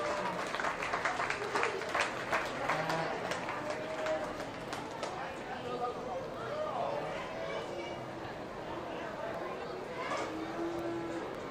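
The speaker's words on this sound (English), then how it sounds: "Let's give our rate of gain winners a round of applause." Steady, sustained applause from an indoor crowd at a beef cattle show, honoring the rate-of-gain winners, filling the whole stretch with dense clapping and some murmuring voices mixed in.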